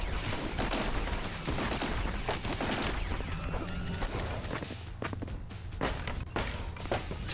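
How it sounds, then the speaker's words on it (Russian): Boxes breaking in the video game Earn to Die Rogue, a dense run of overlapping thuds, cracks and crashes, loud and continuous across the whole stretch with sharper smashing hits near the end. "Все, коробки сломались."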